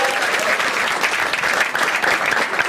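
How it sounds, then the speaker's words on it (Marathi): Audience at a stand-up comedy show applauding steadily for the whole stretch, a dense, even wash of clapping from a crowd without any voice over it. "एकदा टाळ्या वाजवा तिच्यासाठी सगळ्यांनी"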